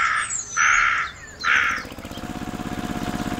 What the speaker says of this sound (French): Les corbeaux passent leur chemin.